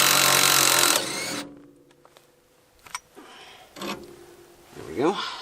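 Work on the front strut bolt of a 2001 Honda CR-V opens with a loud burst of tool noise, then scattered metallic clicks, scrapes and short ratcheting sounds at close range.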